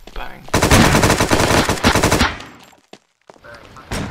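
Automatic shotgun fire in the video game War Inc Battle Zone, a rapid, loud burst of shots lasting nearly two seconds, then a few scattered single shots after a brief quiet.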